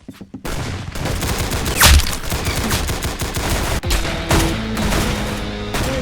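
Gunfire in the Roblox game Arsenal, dense rapid bursts of shots that run almost continuously, loud and close, with a few sharper blasts and brief gaps between volleys.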